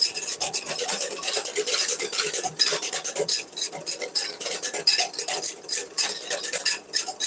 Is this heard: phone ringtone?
no